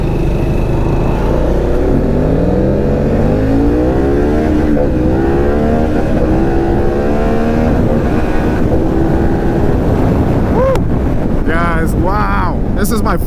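A Harley-Davidson Pan America 1250 with the Revolution Max engine cruises at highway speed, its engine note climbing and shifting through gears beneath heavy, constant wind rush against the microphone.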